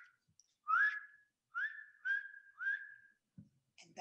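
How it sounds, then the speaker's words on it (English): Strecker's chorus frog call: four rising whistled notes, each a short upward slide, spaced about half a second apart, clear and fairly close, followed by a brief rustle. "Our next picture are our strecker whistles, and the sound we would hear would be."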